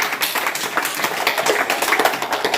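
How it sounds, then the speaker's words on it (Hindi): A group of children clap their hands in a school classroom during a readiness activity, a dense, continuous patter of small claps at moderate loudness without a clear shared rhythm. "तालियां बजाइए"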